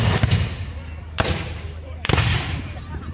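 Muskets go off at an American Civil War reenactment, with two sharp, loud reports about a second apart over a rumbling outdoor background that has crowd noise and indistinct voices.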